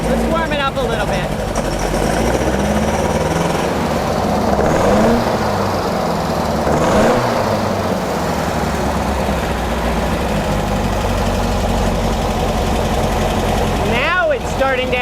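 The engine of a Beck 550 Spyder replica runs continuously as it warms up, sounding rough and loud close by, with a few throttle blips lifting the pitch and a voice talking over it now and then.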